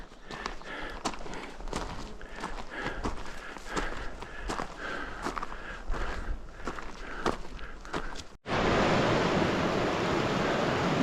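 Hiking boots tread a rocky forest stretch of the Pacific Crest Trail in a steady, close rhythm of crunching steps, with light wind behind them and a sudden loud gust of wind on the microphone at the end.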